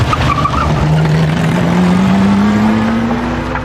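A Lamborghini Miura sports car accelerating, its engine note climbing steadily in pitch over a few seconds, loud and close with a rough, roaring texture and no talking.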